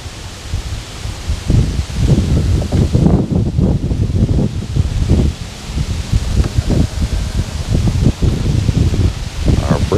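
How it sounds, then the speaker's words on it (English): Strong wind blows outdoors by the water in gusty, rustling surges that rise and fall across the whole stretch, close and fairly loud, with some buffeting of the microphone. "Our breeze has escalated to a pretty strong wind."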